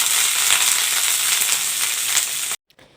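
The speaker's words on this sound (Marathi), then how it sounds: "कढईत मिरच्या टाकून घ्यायच्या आहेत छानपैकी आपल्याला त्या भाजून घ्यायच्या आहेत" Green chillies roast in a little oil in a kadai, hissing in a loud, steady, close sizzle that cuts off abruptly near the end.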